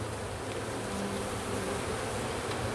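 Honeybees hum in an open hive during a spring inspection, a dense, even buzz close by with no voices.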